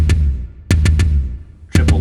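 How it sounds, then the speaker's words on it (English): Drums played in quick eighth-note triplets from a song intro, each triplet a tight burst of hits with a low resonant boom, close and loud with short gaps between. "So a triplet sounds like this"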